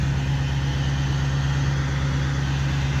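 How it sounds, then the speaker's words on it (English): A 1986 Ford F350 crew cab dually pickup with a trailer hooked up idles steadily, a loud, even, low engine rumble that holds without change throughout. "truck's running"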